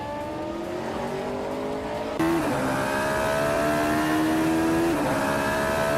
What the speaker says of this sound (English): leading the race in a 2013 Ford Mustang Boss 302